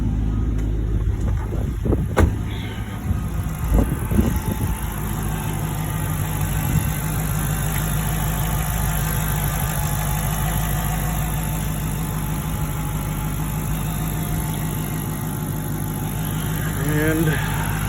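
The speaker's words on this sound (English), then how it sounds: "we'll just take a quick look at the engine bay with the vehicle running" A 2006 Dodge Charger SRT8 engine idles steadily with the hood open, a constant loud rumble throughout with a few brief knocks near the start.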